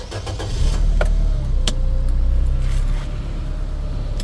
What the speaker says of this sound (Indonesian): Sekarang kita nyalakan mesin.